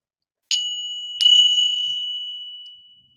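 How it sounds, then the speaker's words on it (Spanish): Two small meditation bells struck one after another during a guided mindfulness session, each a bright, clear ring with long sustained overtones that slowly fade into silence. "Y ahora voy a tocar las campanillas."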